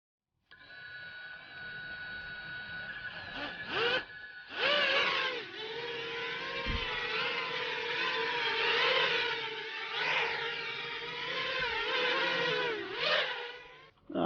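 5-inch FPV racing drone with MEPS brushless motors and HQ props in flight: a steady, buzzing whine that rises and falls in pitch as the throttle changes, with brief cut-outs and sharp surges, and no talking.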